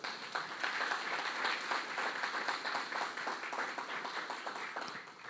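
A church congregation applauds during a sermon at a Baptist church in Curitiba. Many hands clap in a steady, dense patter for several seconds, and the applause fades slightly at the end.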